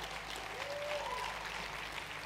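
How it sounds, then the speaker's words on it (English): A church congregation claps steadily through the whole stretch at a moderate distance, a continuous wash of applause with a faint voice and tonal sound underneath. "Just clap for them as I say their name."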